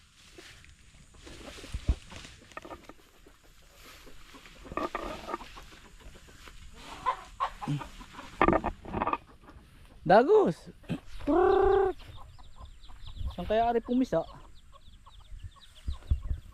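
A chicken clucks and squawks in several short bursts, fairly close, with people talking intermittently around it.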